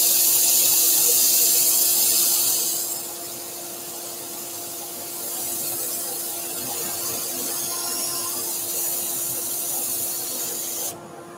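Loud, steady hiss of sandpaper held against a spinning wood-turned spaceship piece to sand its flat, dropping in intensity partway through then continuing evenly, with no voices.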